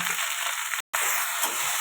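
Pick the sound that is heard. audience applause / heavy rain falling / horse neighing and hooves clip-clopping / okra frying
okra frying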